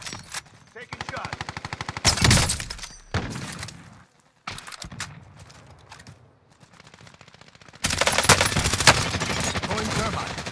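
Automatic weapons rattle in sustained bursts during a Call of Duty: Warzone Payload match, loud and near, broken by brief pauses and heavy thumps, with occasional radio-style voice lines in the mix.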